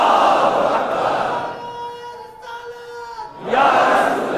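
A crowd at a Muharram religious gathering chants slogans in unison. Loud massed voices open the clip, fade to a lull with a lone sustained voice, then surge back together at the end.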